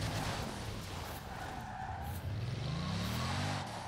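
A Bugatti Chiron in Forza Horizon 4 skidding hard, a loud sustained tire screech over a droning engine whose pitch rises toward the end.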